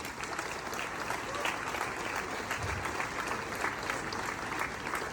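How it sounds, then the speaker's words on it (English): Audience applause at an Independence Day celebration hosted with a yacht club, a steady wash of many hands clapping that holds evenly for several seconds. "Let's give them a big round of applause."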